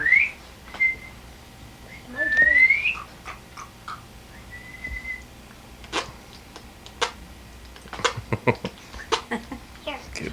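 A person whistles to call a small dog indoors, with a few short rising and steady whistle notes early on, followed by scattered taps and clicks from movement nearby.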